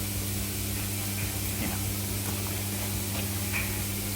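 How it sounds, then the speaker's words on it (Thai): Mist spray system switching on in a mushroom growing house, giving a steady, even hiss of fine water mist with a low constant hum underneath, continuous throughout without breaks. "นี่ครับมันจะมีสเปรย์หมอก"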